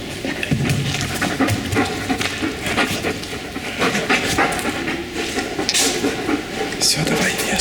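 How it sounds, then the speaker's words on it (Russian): A friendly dog pants steadily up close, its breathing continuous under a noisy indoor background with faint rumbling, inside a piano factory in Legnica. "С собакой я подружился."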